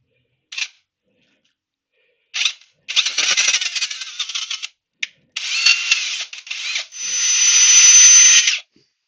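A power tool driven through the screw threads on a Clarke CML3 bike lift, heard as several short close whirring bursts with pauses between, ending in a longer sustained high-pitched run.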